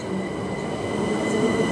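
Traction motors of a train at Imperial Wharf station whine in a steady, loud electric drone, accompanied by a rumbling rolling hum and faint rail squeal as the train passes close by.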